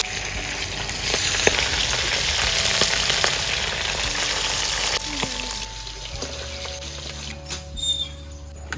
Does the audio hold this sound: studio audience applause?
no